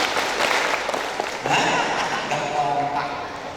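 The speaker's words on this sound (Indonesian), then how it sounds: "Kalau kau suka hati tepuk tangan." A group of students at an OSIS student council training session claps hands in rhythm while singing a children's clapping song together, steady group claps mixed with sung voices throughout.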